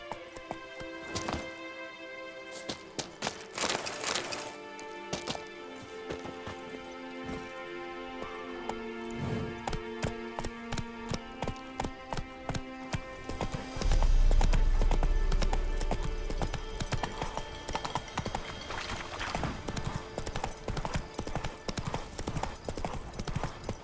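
A horse's hooves clop in a fast, regular galloping rhythm in The Witcher 3 video game. The beat stays steady and fairly close throughout, with a louder surge midway and occasional brief voice lines.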